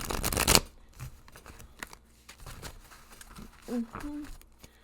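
Quick riffling and soft slaps of tarot cards being shuffled close by, in short bursts with brief pauses between them.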